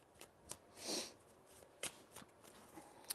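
Tarot cards being shuffled in a quiet room, a few soft riffling bursts and light shuffling taps, close and faint with no talking.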